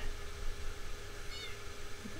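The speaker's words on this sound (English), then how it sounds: "I hear a kitty." A cat meows in a video game, a short faint call over a low steady background hum, with no voices.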